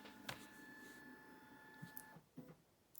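An office printer runs in the background with a steady mechanical whir and a sustained tone, followed by a few short clicks and clunks as it finishes, faint and distant.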